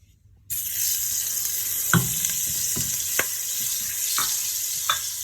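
Butter melting in hot cooking oil in a pan, a steady bright sizzle throughout with a few soft clicks and scrapes, close and continuous after a quiet start.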